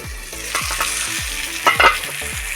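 Eggplant pieces fry in hot oil in a pan with a close, crackling sizzle, punctuated by a series of rhythmic spatula scrapes and a brief louder burst of spitting oil.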